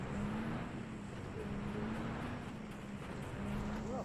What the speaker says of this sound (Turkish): Arabayı alıp geliyorum ama.